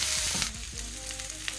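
Chilli chicken stir-fried in a pan, a close, steady hissing sizzle with occasional clinks and scrapes of the spatula as the pieces are tossed, no speech.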